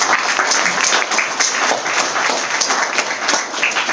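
Seminar audience in India gives a loud, dense round of applause for the guests, many hands clapping steadily for the full stretch.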